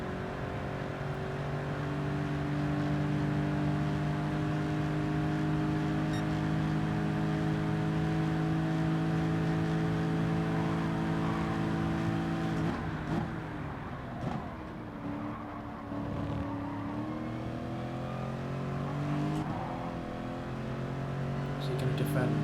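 A Mustang race car's engine in Gran Turismo Sport drones loudly and steadily, holding a sustained tone and then shifting pitch as the car slows and accelerates again, with no one talking.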